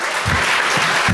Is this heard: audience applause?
yes